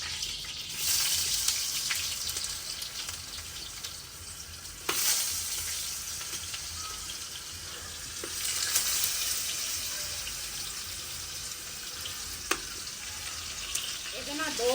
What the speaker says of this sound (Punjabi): ਘਿਓ ਜਿਹੜਾ ਵਾ ਨਾ ਉਹ ਮੈਂ ਤਵੇ ਤੇ ਪਾ ਲਿਆ ਵਾ